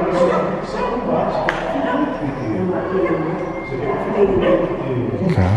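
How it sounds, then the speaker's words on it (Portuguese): Dogs bark and yip off and on under loud, continuous talking inside an abandoned hospital, with some whimpering mixed into a busy, noisy scene. "tem bastante barulho aqui, pessoal, bastante cachorro"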